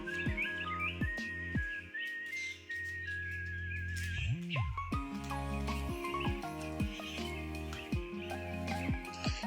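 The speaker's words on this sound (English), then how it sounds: "The birds were particularly happy today once the sun came out." Outdoor songbirds chirp and whistle through an open doorway in a fiber artist's home studio, bright repeated tweets and trills layered over a dense, tonal background that carries on throughout.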